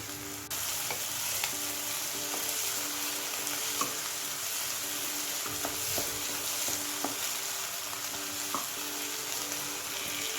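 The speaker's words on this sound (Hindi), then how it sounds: "अब ये मेरा मसाला भून चुका है" Masala frying in a pan keeps up a steady close sizzle for several seconds, broken by repeated spatula scrapes and taps at irregular intervals, with no one speaking.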